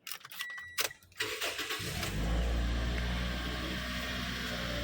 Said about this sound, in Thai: เดี๋ยวผมสตาร์ทเครื่องเลย